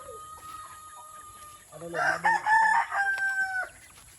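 A rooster on a farm crows loudly in a long, wavering call lasting about two seconds. Quieter clucking from nearby chickens comes before and after it.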